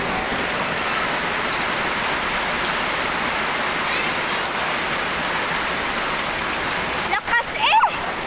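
Torrential rain roars in a dense, unbroken wash, loud and near, holding steady throughout until a short burst of voices and movement near the end.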